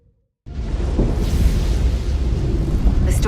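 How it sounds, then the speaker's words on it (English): A storm rumbles in Star Trek: Resurgence, a deep, continuous roar that swells in abruptly after a brief silence and holds steady and loud, with a faint high hiss near the end. "The storm is getting worse."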